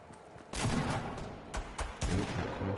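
Gunfire crackles in Fortnite Battle Royale, with several loud bursts of shots over a dense, noisy background.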